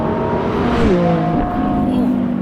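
A Lamborghini Revuelto's V12 hybrid engine revs loudly inside the car, a sustained tonal roar whose pitch climbs and drops through gear changes while a voice talks over it.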